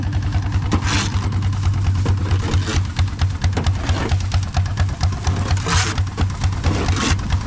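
An engine idles steadily on a vehicle spreading manure on a farm, a loud, even, pulsing rumble throughout with a rattling, clattering texture layered on top.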